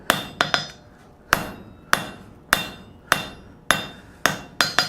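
Repeated hammer blows on a cold chisel being forged, nine sharp metallic strikes in an uneven rhythm, some in quick doubles, each ringing briefly before the next, loud and close with no talk.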